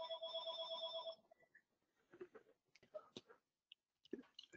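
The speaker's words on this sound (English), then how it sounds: "my phone just rang" A phone rings at the start with a clear electronic tone, a little over a second long, before muffled speech and movement follow.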